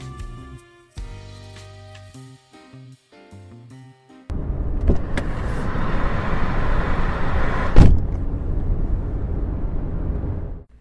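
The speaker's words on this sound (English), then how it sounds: "Driving down the road in my new 2021 Mercury Predator." A car driving down the road in a radio advert for a 2021 Mercury Predator, a sustained loud rumbling roar with a sharp swell partway through, following a short burst of music and playing alone.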